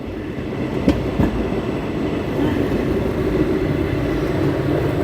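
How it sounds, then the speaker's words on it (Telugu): A train rolls along with a steady, loud rumble and faint rhythmic clatter, a couple of sharp clanks early on, heard from close by. "పోతుంది చూడండి ట్రైన్"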